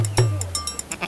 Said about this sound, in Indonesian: Texel adalah jenis domba pedaging.